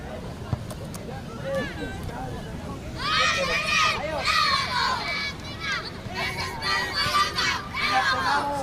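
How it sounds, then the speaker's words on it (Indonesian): Crowd noise at a live youth football tournament, with many voices shouting and calling out together over a steady outdoor din, growing louder and more excited partway through. "Sangat baik teriakan demi teriakan."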